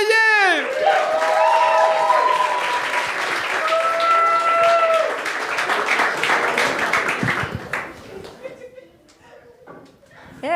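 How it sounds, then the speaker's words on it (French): A comedy show audience gives a comedian thunderous applause, loud and sustained with cheering and whistles, while an announcer's voice carries over the top before the clapping thins out and fades near the end. "tonnerre d'applaudissements pour Yasmina Léveillé"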